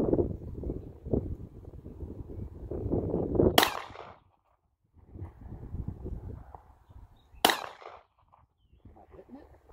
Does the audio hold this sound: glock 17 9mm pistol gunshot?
yes